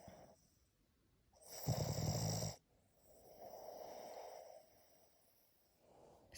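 A sleeping Boston Terrier gives one strong, rasping snort-snore, then a softer, drawn-out breath, with quiet gaps on either side.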